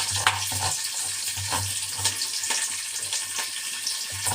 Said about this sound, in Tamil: ஒரு வெங்காயம் தான் கட் பண்ணி போட்டுட்டேன் அப்படியே அது வதங்க